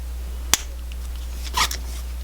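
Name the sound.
cutting jewelry wire at an angle for snake tail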